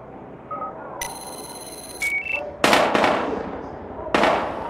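Sharp cracking gunshots in the video game Battlefield Hardline, a few loud bursts amid electronic beeps and game sounds, with no speech.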